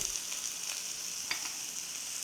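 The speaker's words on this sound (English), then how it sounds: "Now easily stir fry a little." Cashew nuts stir-fried in a pan give a steady, soft sizzling hiss throughout, with a few faint scrapes and light clicks from stirring.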